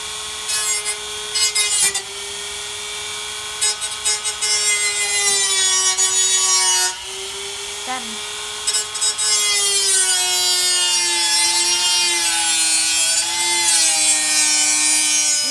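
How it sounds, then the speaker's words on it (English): A high-pitched Dremel rotary tool whines steadily while drilling a hole in a metal bucket, with brief pauses and shifts in pitch as it cuts, close and loud. "Drill a hole with the Dremel for the burner."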